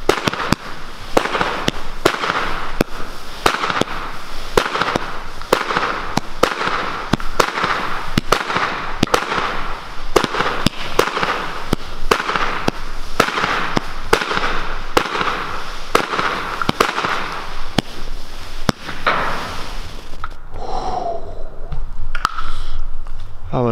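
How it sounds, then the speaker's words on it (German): Fireworks salute shells burst over and over during a display of Röder firework novelties, loud sharp bangs at a fairly steady pace of about one per second, ending with crackling and a faint voice at the close. "Das ist ein Salut."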